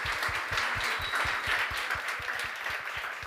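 Audience clapping at a New Year's event, a dense, even patter of many hands sustained for a few seconds at a constant level.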